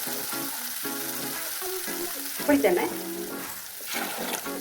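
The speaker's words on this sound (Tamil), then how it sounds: "கடுகு வெடிக்கட்டும்." Mustard seeds spluttering and popping in hot oil for a pirandai (adamant creeper) kuzhambu, a steady close sizzle with sharper crackling bursts midway, while background tones sit underneath.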